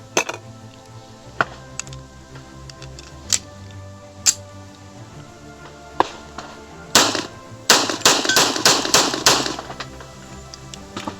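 A 107-year-old 1911 handgun fires a series of sharp, broadband cracks, spaced out at first and then in a quicker cluster of several shots toward the end.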